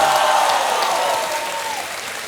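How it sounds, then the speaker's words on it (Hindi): Studio audience applause on a televised quiz show, loud and sustained from the start, a broad roar of clapping that slowly tapers over about two seconds. "जरा जोरदार ताली बजा"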